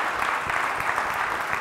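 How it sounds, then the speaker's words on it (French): A brief burst of audience applause at a French business event on supporting innovation investment, with dense clapping heard at moderate volume for under two seconds. "une main d'applaudissement pour Marie-Chantal"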